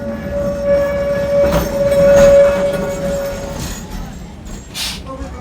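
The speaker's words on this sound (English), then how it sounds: "Now it was finally time to ride on the tram" Auckland Dockline Tram trundling around the loop with a sustained steady squeal or hum that fades toward the end, rail rumble underneath and brief talk in the background.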